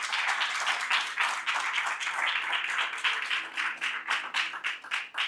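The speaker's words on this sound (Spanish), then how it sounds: "Denle un aplauso al Padre poderoso." A church congregation claps together during a sermon, a bright burst of applause that settles into rhythmic, fairly loud clapping toward the end.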